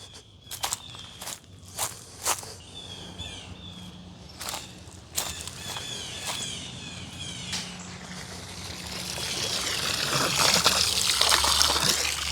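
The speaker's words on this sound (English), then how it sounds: "I really hate these small hoses for filling up a pool" A small garden hose fills a swimming pool, with a trickle of running water building into a steadier gush, preceded by close footsteps and handling noises.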